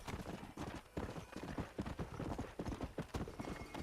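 Horse hooves clip-clopping in the video game Red Dead Redemption on PC, a brisk, regular trot of close hoof strikes that keeps an even rhythm throughout.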